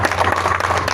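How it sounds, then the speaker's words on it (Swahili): Audience clapping at a Gusii journalists' end-of-year meeting in Nyamira, a dense steady patter of many hands filling the whole moment with no break. "Piga makofi kwake."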